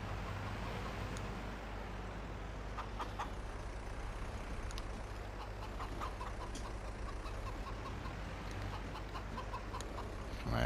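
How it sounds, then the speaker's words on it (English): Chickens cluck softly in Farming Simulator 22 on an island farm, faint scattered calls sitting under a steady, loud engine-like drone from farm machinery. "And then we'll see if we can get the chickens fed."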